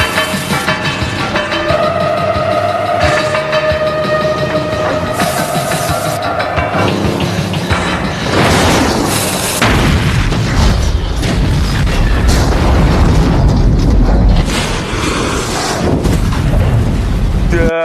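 A truck blows up in the 1984 film The Terminator: a loud, sustained explosion with deep rumbling booms and crackling debris, layered over tense film score that continues throughout.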